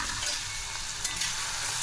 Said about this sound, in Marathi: तिथं आता बारीक केलेली हिरवी मिरची आणि लसूणचं पेस्ट टाकायचं आहे